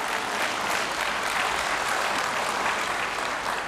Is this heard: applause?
yes